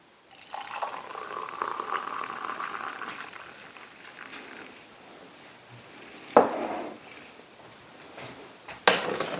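Hot water poured from a pot for an MRE coffee, a steady liquid pour and trickle running several seconds, followed by a couple of sharp knocks of the pot being set down.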